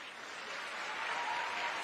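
Soft, continuous applause from a crowd, heard at a moderate distance and holding steady throughout.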